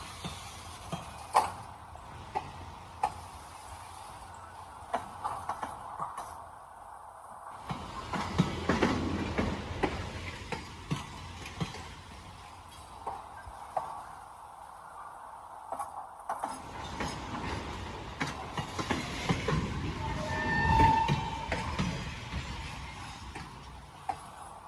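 A long freight train with a caboose at the end rolls past at a rail crossing, its wheels clicking and clattering in uneven bursts, with rumbling surges and fading lulls and no one talking.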